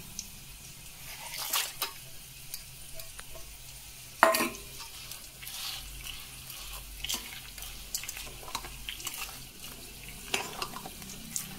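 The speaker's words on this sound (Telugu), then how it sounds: "పోపు వేసిన గుళ్ళు, పచ్చిశనగపప్పు, ఆవాలు, చాయ్ పప్పు, రెండు మెంతి గింజలు వేయాలండి" Chana dal, mustard seeds, urad dal, fenugreek and asafoetida temper in hot oil, a low crackling sizzle broken by stirring scrapes and a sharp clink, quiet and close with no speech.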